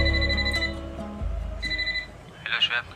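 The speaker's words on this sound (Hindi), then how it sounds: "अलार्म।" An alarm clock rings in short repeated bursts of bright electronic tones, stopping and restarting, loud and close, with a low hum and some clinking underneath.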